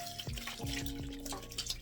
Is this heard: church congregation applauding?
no